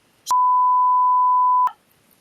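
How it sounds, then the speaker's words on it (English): A single long, steady censor bleep tone sounds loud and alone for about a second and a half, bracketed by sharp clicks at its start and end. "No, I just wanted a long beep."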